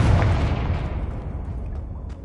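A Confringo spell bursts in the video game Hogwarts Legacy as a single heavy explosion, a loud booming hit with deep rumble that slowly decays over about two seconds, with no one talking.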